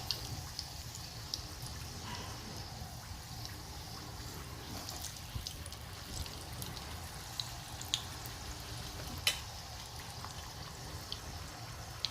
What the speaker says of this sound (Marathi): या ठिकाणी मी 1-2 तुम्हाला तळून दाखवते. एकदम मीडियम आचेवरती तुम्हाला तळायचे आहेत.